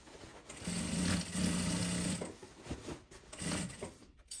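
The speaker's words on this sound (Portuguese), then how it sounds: "Aqui eu estou costurando com a margem de costura de 1 centímetro" A sewing machine stitches nylon 600 fabric with a 1 cm seam allowance, running in two short bursts with a pause and then a shorter run, close and moderately loud, with small mechanical clicks between.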